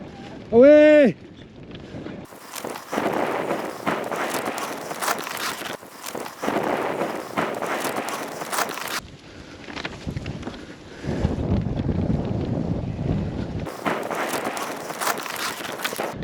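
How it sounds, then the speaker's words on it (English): Strong gusting wind on a hilltop at a sheep farm buffets the microphone in long roaring bursts, preceded by a brief whistle-like tone; no voices. "So it's extremely windy on the top of this hill."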